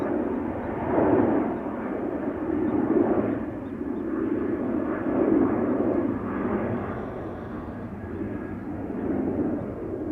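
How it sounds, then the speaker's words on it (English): A KLM Boeing 737-900 departing Amsterdam Schiphol for Barcelona, a steady rumbling jet roar with gentle swells in loudness, heard from some distance and without talk. "KLM 737-900 to Barcelona."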